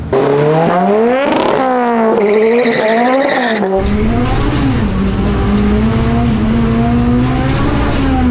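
A Mazda RX-7 rear-wheel-drive car roars loudly up through the gears, its engine pitch rising and dropping with each shift, plus a brief tire squeal; no one speaks.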